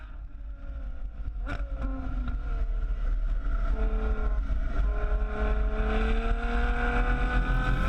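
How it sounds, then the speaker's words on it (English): A Ferrari F12 Berlinetta is driven hard, its engine droning loudly and climbing in pitch through rising revs, with wind rush throughout. "I want to shag some tyres."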